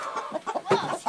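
A chicken clucks up close in a quick burst of short, choppy calls, loud and alone with no talk over it.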